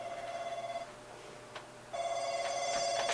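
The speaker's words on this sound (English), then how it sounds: "my phone never rings, but that was the bank calling to ask me something" A phone rings with an incoming call from a bank, two bursts of a steady electronic ringtone separated by a short pause, fairly close and alone with no talking.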